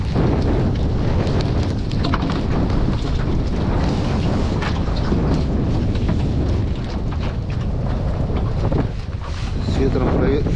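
Strong wind buffets a small fishing boat out on open water in a storm, roaring and rumbling continuously across the microphone with no letup.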